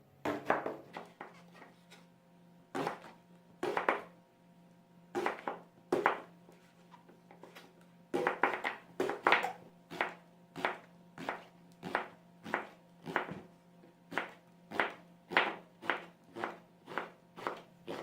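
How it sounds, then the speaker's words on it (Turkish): A knife chops eggplant into one-centimetre slices on a board, making crisp close knocks, sparse and uneven at first and then a steady rapid rhythm of evenly spaced cuts; no talk. "Şimdi de bu şekilde şöyle birer santim kalınlıkta"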